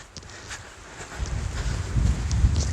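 Wind blows across a forestry track on a dry, blustery day, a low buffeting rumble that swells and grows louder over the second half, with no voices.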